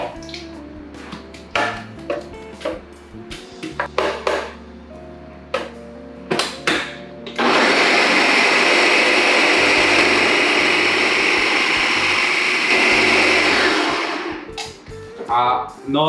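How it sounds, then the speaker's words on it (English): A countertop blender whirs loudly and steadily for about seven seconds as it blends homemade vegan coconut yogurt, with kitchen clatter and a person talking before and after. "I'm gonna transfer it to this blender"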